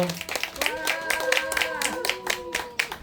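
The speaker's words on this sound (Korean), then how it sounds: "힘찬 박수로 좀 맞아주시기 바랍니다" An audience at an outdoor community gathering claps briefly to welcome a singer, light scattered hand claps mixed with a voice speaking and what sounds like a tonal melody running underneath.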